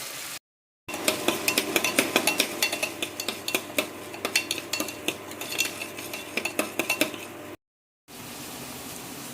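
A ground paste of ginger, garlic and green chili is sautéed in a pan. Rapid metallic clinks and scrapes from a spoon against the cookware sound over a low sizzle, with brief silent gaps at the start and near the end.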